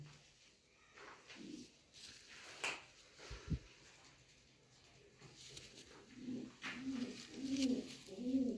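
Rare-breed pigeons from the Ustad Mian Nazir bloodline, kept as prized high-priced birds, give soft low cooing calls, faint at first and then more steady and close toward the end over quiet background noise.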